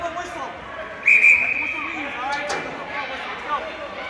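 A referee's whistle blows once, short and sharp, during a DCHL hockey game, heard over crowd murmur and commentators talking.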